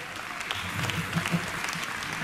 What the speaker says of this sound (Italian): Un applauso alla gag del metro